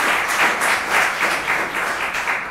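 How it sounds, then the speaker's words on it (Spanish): A Mass congregation gives a warm round of applause for real estate agents on their professional day, steady dense clapping throughout, close and moderately loud with no talking. "Les damos un gran aplauso en el Día del Corredor Inmobiliario."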